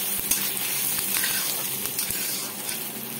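Onion sizzles loudly in a pan over a high flame for butter chicken, a dense and constant crackle with occasional stirring clicks and no voices.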